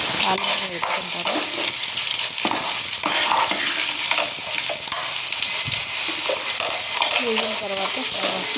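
Dried red chillies crackle in hot oil in a pan for a tadka, a steady close sizzle with stirring scrapes while a voice speaks over it.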